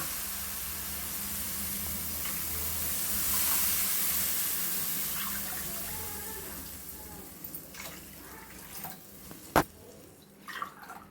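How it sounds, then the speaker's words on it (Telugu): Glasses of water are poured into a cooking pot, a rushing pour that swells and then fades, followed by a few light clatters of the glass and pot. "మనం ఏ గ్లాస్తో అయితే రవ్వ తీసుకున్నామో అదే గ్లాస్తో 3 వాటర్ పోసుకోవాలి."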